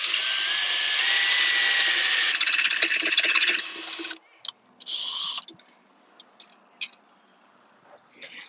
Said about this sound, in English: I've got it attached to my drill.